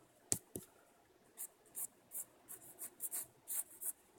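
A pencil sketching manga artwork on paper, giving a series of short, close scratchy strokes in an uneven rhythm, opening with two sharper taps, with no talking.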